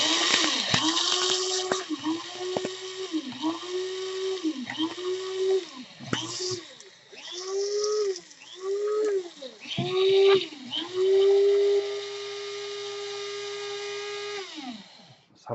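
A KRUPS F203 electric spice and coffee grinder whirs through coffee beans in repeated short pulses, its motor pitch rising and dipping as the beans break up, then running in one longer steady burst, loud and close.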